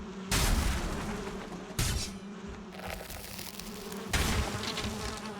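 Bees buzzing from a beehive in Valheim, a droning buzz with sharp broadband bursts that start abruptly and fade, repeating three or four times, fairly loud and without talk.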